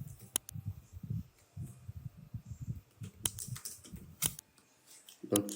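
Keys clatter on a computer keyboard in quick, uneven bursts while text is entered into a WordPress site builder, close and fairly quiet, with a few sharper clicks between softer taps.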